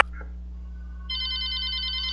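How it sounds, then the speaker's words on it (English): A telephone bell ringing in a multiplayer shooter match, a sustained electronic ring that starts halfway through and holds steady and fairly loud over a constant low hum. "No more phone ringing."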